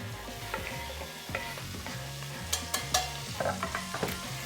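Peppers, onions and a cinnamon stick frying in a pot with a sizzling bed, broken by scattered clinks and scrapes of stirring, close and fairly quiet with no talk.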